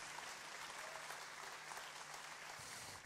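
A concert audience applauds for a performer at an anniversary show, a soft but steady wash of clapping held evenly throughout with no talk over it.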